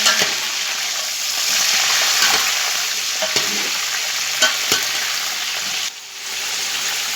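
Cow trotters fry in ghee in a pot for bong paya, a steady bright sizzle with a faint watery bubbling, broken by occasional scrapes and clicks as a spoon stirs through them.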